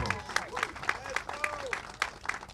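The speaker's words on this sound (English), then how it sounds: "this man right here needs a big round of applause" A small outdoor crowd at a mural ribbon-cutting claps in steady, fairly faint applause for about two and a half seconds, with voices rising through the clapping.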